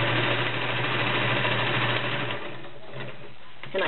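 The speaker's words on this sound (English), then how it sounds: "Okay, I'm going to sew a little bit so you can hear it run." A vintage 1947 Kenmore convertible sewing machine runs a straight stitch, giving a steady close motor whir and hum that slows and quiets partway through before picking up again at the end.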